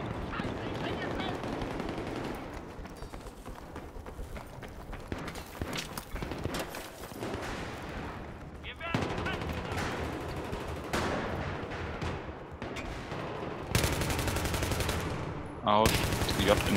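Battlefield 3 multiplayer gunfire with rapid automatic bursts and single shots, some close and loud, some more distant, continuing through the clip with a few pauses and sharp loud shots near the end.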